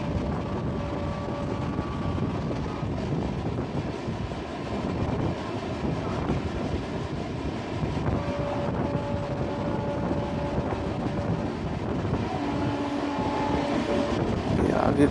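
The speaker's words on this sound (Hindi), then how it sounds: "जिस पे हमारी ट्रेन बहुत अच्छी स्पीड से स्किप कर रही है।" Grand Trunk Express train running fast through Delhi station, a steady loud rumble of wheels and carriage noise from inside the train, with faint whistle-like tones now and then, continuous throughout.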